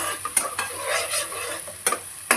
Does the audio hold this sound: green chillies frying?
yes